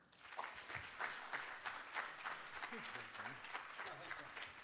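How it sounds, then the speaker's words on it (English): A crowd at a storytelling talk gives a speaker a round of applause. The clapping is faint and distant, with steady, scattered claps throughout. "Give him a round of applause."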